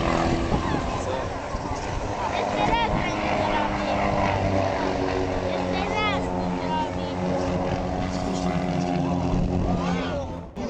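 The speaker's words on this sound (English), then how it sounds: "An aerobatic plane is racing just above the Vistula River" Aerobatic plane flying low over the Vistula River in Poland, its propeller engine droning steadily with shifting pitch throughout, while people talk over it.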